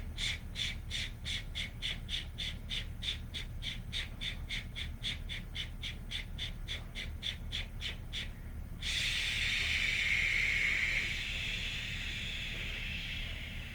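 Breath of fire, rapid rhythmic breathing through the nostrils: about two dozen quick, evenly spaced sharp exhalations, fairly faint, followed by a longer steady breath of air.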